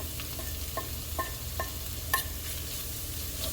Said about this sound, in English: I'm going to add my sausage